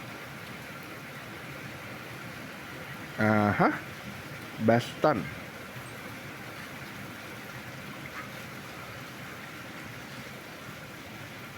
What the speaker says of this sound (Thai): ว้าวฝนตกแล้ว ไม่รู้ได้ยินเสียงไหมนะแรงนะ